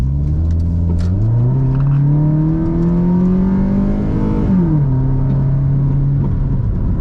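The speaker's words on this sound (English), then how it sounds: "I'm only gonna do a pull in first gear" A Toyota Corolla engine revs hard while accelerating in first gear, its droning pitch climbing steadily before the throttle eases and the note drops, loud and close with no talk.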